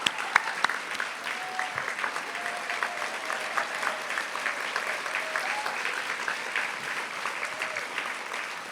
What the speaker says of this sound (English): Please stand up so we can applaud you.